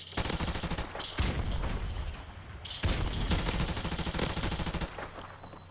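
Dense, rapid gunfire from the video game Call of Duty, with loud sustained automatic bursts repeating through the whole stretch and only brief dips between volleys.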